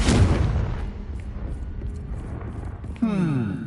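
Confringo spell explosion in the Hogwarts Legacy video game, a loud burst at the start fading into rumble, followed by a sharp rising magical whoosh near the end, with a voice speaking briefly.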